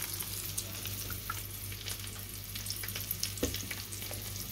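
Whole fish frying in oil in a pan that earlier held onions, a steady close crackling sizzle throughout with small pops, no talk over it.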